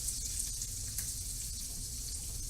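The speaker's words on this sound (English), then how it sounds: "We'll put onions in this pan too." Onions fry in a hot pan with a steady, bright sizzle and crackle, close and continuous, alone without talk.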